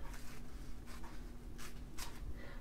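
Paper is cut with scissors during rice-paper and collage art journaling, giving about four quiet, brief snips spaced through a short, faint stretch with no talking.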